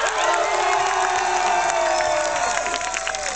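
Loud cheering and whooping from an audience for Józsi, a dense continuous crowd roar with high shouts and some clapping, sustained throughout.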